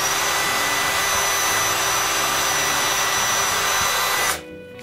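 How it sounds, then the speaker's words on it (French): A small power drill bores holes for the buttons and nose in a wooden snowman that has been coated with clear lacquer, a steady loud whine with no break, cutting off abruptly near the end to near silence. "je perce les trous pour les boutons et le nez"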